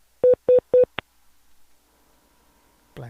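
Telephone call transfer tones on a business phone line: three evenly spaced loud dialing beeps and a short fourth blip, followed by a faint hum and a brief voice at the end.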